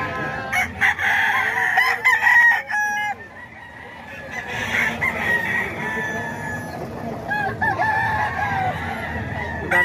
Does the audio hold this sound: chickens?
yes